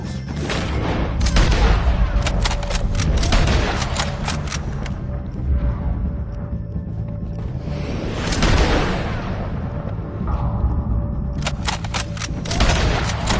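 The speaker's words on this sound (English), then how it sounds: "If you can hear me, shoot some of these O'Driscolls!" Rapid gunfire crackles through a Red Dead Redemption 2 shootout against O'Driscolls, with bursts of loud shots and booming impacts repeating throughout, close and dense.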